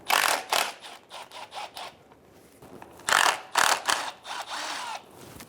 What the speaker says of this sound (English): Remove the 2 10mm bolts on the bottom of the radiator for the transmission line.